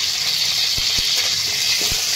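Amla (Indian gooseberry) frying on a tava over a low flame: a steady, close hiss of oil fills the whole stretch, with a few faint knocks from the pan underneath and no talking.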